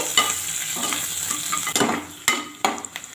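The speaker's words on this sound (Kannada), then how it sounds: "ಈಗ ಕಟ್ ಮಾಡಿ ಇಟ್ಕೊಂಡಿರುವಂಥ ಈರುಳ್ಳಿ ಚೆನ್ನಾಗಿ ಫ್ರೈ ಆಗಬೇಕು" Chopped onions fry with curry leaves in a pan, a crackling sizzle punctuated by a few sharp scrapes and knocks of a spatula, close up and without talk.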